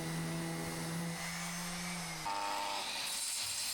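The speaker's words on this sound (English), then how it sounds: "and just run over with a sander with no dust extraction, which will fill everything." A power sander runs over glued wood with no dust extraction, a steady loud whine and whirring hum that shifts in pitch partway through as the tool changes load.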